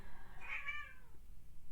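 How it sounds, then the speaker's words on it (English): A cat lets out one short, loud yowling scream that swells and fades within about half a second, heard alone with no talking. "Please ignore the screaming cat."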